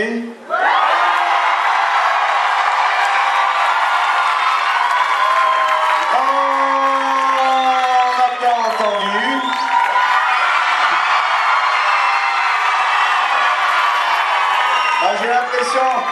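A studio audience cheers and claps loudly for a performance of a medley. The dense crowd noise holds steady, with shouted whoops rising through it.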